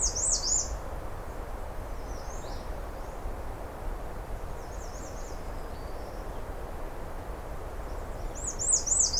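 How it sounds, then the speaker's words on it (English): Repeated high, thin calls from a merlin ring out in short bursts at the start, around the middle and at the end, fairly distant over steady outdoor background noise on a sunny morning near a river. "I hear the merlin."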